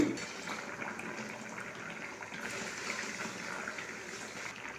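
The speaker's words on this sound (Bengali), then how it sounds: "ঝোলটা ফুটছে, এই সময়তে দিয়ে দেবো ভেজে রাখা মাছগুলি" Hilsa fish curry gravy with potato and eggplant simmers in a pot, a soft steady bubbling and watery burble heard up close at low volume.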